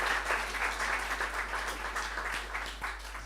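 An audience at a business talk applauds in a brief, moderately loud wash of clapping, with a steady low hum underneath and faint voices.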